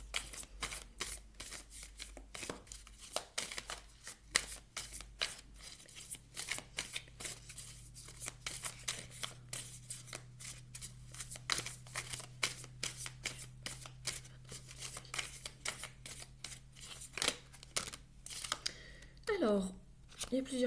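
Oracle cards being shuffled by hand in a long run of rapid, crisp riffling flicks close up, with a faint low hum beneath and a brief flutter of cards near the end.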